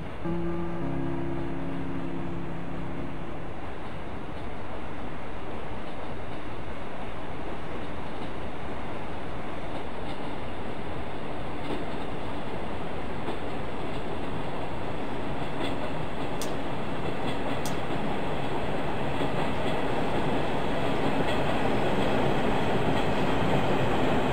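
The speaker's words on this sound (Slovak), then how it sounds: "Ukončite nástup, vlak hneď odíde." Slovak passenger train Os 5783, hauled by a class 362 locomotive, pulling out of Úľany nad Žitavou station: a loud, close, continuous rumble and roar of the engine and wheels that builds steadily, with a brief tone early on.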